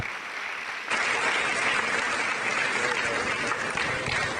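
Audience applause at a quiz competition finale, steady dense clapping that swells suddenly after the first second and holds loud to the end.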